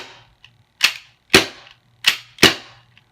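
Four sharp, loud gas airsoft pistol shots running on duster gas, each a crisp snap with a brief tail, fired at an uneven pace with a fainter click between them.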